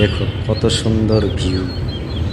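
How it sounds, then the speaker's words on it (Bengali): Birds chirp faintly in the background while a person talks over them. "পাখির কিচিরমিচির আওয়াজ"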